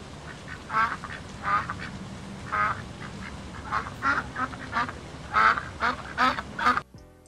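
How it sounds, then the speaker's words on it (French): Duck quacking in a string of separate, fairly close calls, some spaced and some in quick clusters, over a faint steady background. "voici un intermède canard"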